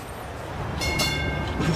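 A tram runs along its tracks with a low, steady rumble, briefly joined by a thin high-pitched metallic squeal partway through.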